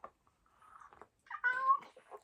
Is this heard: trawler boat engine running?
no